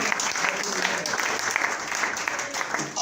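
A church congregation applauds together to acclaim the Lord during a sermon, a steady dense clapping that fills the space for about three seconds at an even, loud level.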